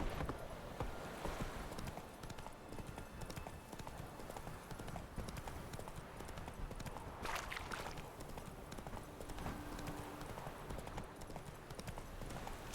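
A horse's hooves clip-clop in a steady galloping rhythm in The Witcher 3, continuous and fairly even against a dense game soundscape.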